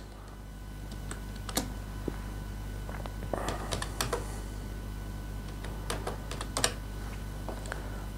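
A passport number is typed on a computer keyboard, with close, irregular key clicks and taps coming in short bursts over a low steady hum for about eight seconds.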